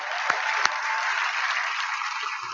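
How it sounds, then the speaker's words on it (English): A large crowd at the Bethesda E3 2016 press conference applauds the Dishonored 2 team, sustained and even applause with a couple of sharp nearby claps early on. "Could I please have another round of applause"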